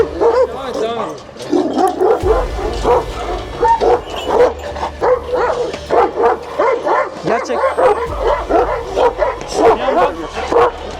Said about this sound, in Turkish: hayatımda gördüğüm en büyük Anadolu köpekleri. Anadolu çoban köpeklerinden bir tanesi